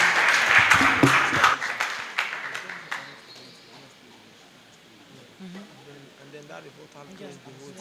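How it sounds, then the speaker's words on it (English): An audience at a debate session claps loudly for about two seconds, then the applause thins out and stops while voices go on talking. "Please, can we give them a round of applause?"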